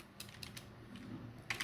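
Faint, sparse keystrokes tap on a computer keyboard in a quiet room, a few soft clicks spread over under two seconds.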